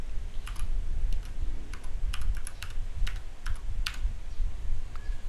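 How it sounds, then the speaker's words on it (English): Keys clatter on a computer keyboard in quick, uneven bursts of crisp clicks while a word is typed into a Google Docs word art box, close and fairly quiet, with no speech. "As you can see, I have typed the word subscribe."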